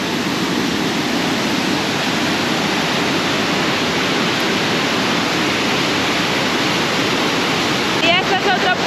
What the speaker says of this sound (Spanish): Y este es otro punto panorámico de la cascada.